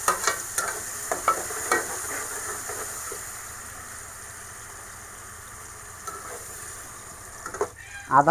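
Biryani spices with ginger paste and tomato being stir-fried for chicken biryani, a soft sizzle under a few spoon scrapes early on and again at the end, with a quieter low hum in between.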